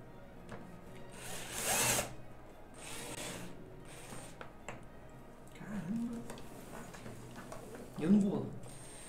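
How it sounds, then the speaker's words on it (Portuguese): A power drill runs a bit into a case while its handle is being replaced, giving one short, loud whir near the start and fainter bursts later, with people talking throughout. "Eu não tenho outra broca menor."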